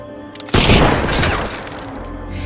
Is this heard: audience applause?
no